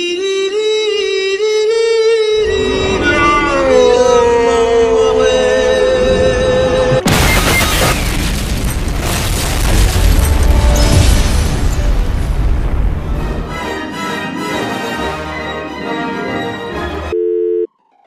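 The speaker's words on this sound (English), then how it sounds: "Rocket launcher!" Rocket launcher explosions in a video game arrive as loud booms and bursts. They follow a tonal electronic stretch, then a dense, noisy barrage that fades toward the end.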